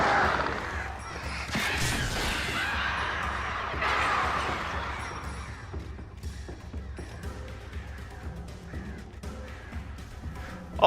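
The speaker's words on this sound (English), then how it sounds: "all of this to be attacked by birds" Crows attacking in the Alan Wake video game, cawing repeatedly amid a busy, loud game soundscape with crashes and creaking, strongest in the first half before settling into quieter background noise.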